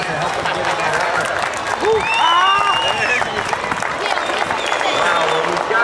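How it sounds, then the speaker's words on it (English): A crowd at the 2008 Jones Beach airshow applauds a combat search-and-rescue demonstration by a rescue wing, a dense outdoor wash of clapping that holds steady for several seconds, with brief faint calls over it. "Give a nice round of applause to help them get in that effort"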